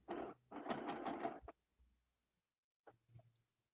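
A sewing machine back-stitches two pieces of fabric together in two short, close bursts of whirring stitching. A brief pause follows, then a couple of faint clicks.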